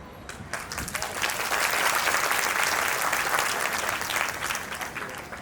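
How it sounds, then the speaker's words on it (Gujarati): An audience claps at a talk on choosing a life partner, a loud, dense burst of applause that swells and holds steadily for several seconds with no voices over it. "સૌથી પહેલી તાળીઓ આ બાજુથી પડી"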